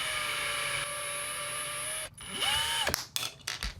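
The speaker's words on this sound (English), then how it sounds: "I'll use a drill to spin on it." A power drill spinning a small pipe cutter whirs steadily for about two seconds, stops, then revs up again briefly before a few clattering knocks at the end.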